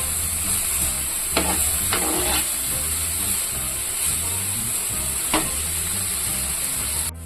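Bitter gourd sautéing in a pan with salt and spice powder, giving a steady close sizzle and hiss throughout, with a few brief louder stir scrapes and no talking.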